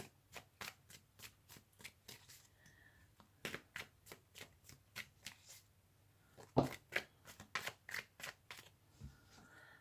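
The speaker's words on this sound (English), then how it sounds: "I'm just going to pull a few cards here and see what energies have been brought in" Tarot cards are shuffled and pulled from a deck close to the microphone in a run of crisp, rapid riffling flicks, a brief pause, then sharper card snaps and slaps toward the end, quiet and without talk.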